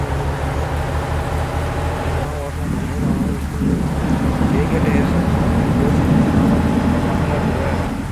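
Rain in a truck-driving video game, a steady dense hiss of falling rain over the low drone of the truck engine, continuous and fairly loud throughout.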